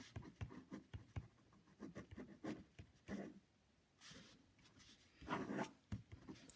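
Marker or chalk scratches and taps against a classroom board in short, faint strokes with brief gaps, heard alone at low level.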